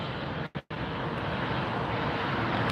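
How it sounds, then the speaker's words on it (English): Southwest airliner taxiing at LAX, a broad steady jet engine roar heard from a distance, briefly cut out once then continuing evenly. "See a Southwest taxiing over there."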